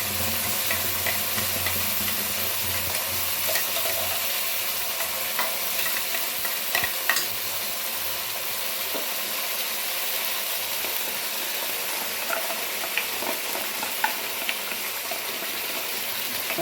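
A ground paste of tomato, onion, coriander and green chilli fries in a pan for ribbon fish curry, a continuous close sizzle with occasional stirring scrapes and soft pops.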